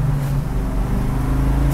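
1966 Ford Mustang Fastback HO engine driving on the road, a steady deep rumble with tonal drone heard from inside the car, loud and continuous.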